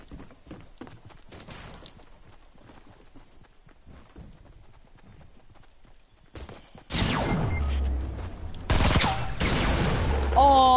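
Gunfire in the video game Fortnite, starting with quieter clatter and movement, then loud, dense bursts of rapid shots in the second half, close and harsh.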